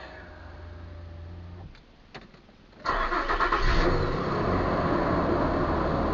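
A 4-liter V6 engine cranks over briefly with a few clicks, then catches and roars to life, settling into a loud, steady running rumble.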